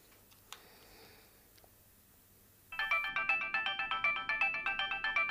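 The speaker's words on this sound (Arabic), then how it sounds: "رن" A phone ringtone starts suddenly after a quiet stretch and repeats as a loud, close, rhythmic electronic trill of evenly spaced pulses, with a few faint clicks before it and no talk.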